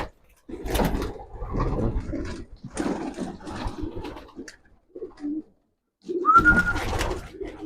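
Pigeons coo in low, throaty bursts with rustling and fluttering between calls, and a brief whistle near the end.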